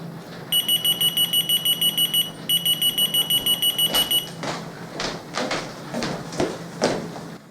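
Two bursts of quick, high-pitched electronic beeping from a JTD Wireless UHF RF key finder receiver, heard somewhat faintly through a wall from the next room, followed by a few clunks and knocks.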